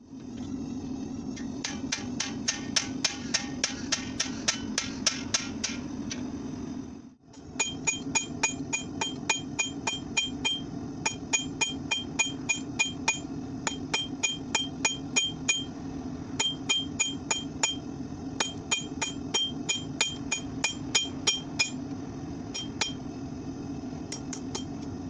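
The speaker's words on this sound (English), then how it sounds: "we're going to use the cold chisel to cut it off" A hammer strikes a cold chisel again and again to cut through forged tong steel, crisp metallic rings in quick rhythmic bursts, a brief pause early on, then the steady striking resumes, close and clear, no speech.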